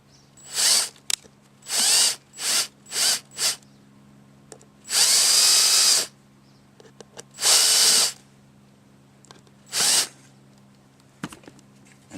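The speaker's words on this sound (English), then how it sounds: "you can start to screw in those 2 screws" A power drill drives screws into a wooden bluebird viewing house in a series of short bursts, first several quick whirring pulses, then two longer sustained runs and one final short burst, close and loud with quiet gaps between.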